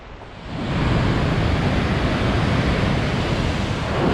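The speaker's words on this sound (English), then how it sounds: "and we just hear the water gushing" Mountain river water gushing near the Chalaadi Glacier hike in Georgia, a loud, steady broadband rush that swells in within the first half second and holds constant, with no voices.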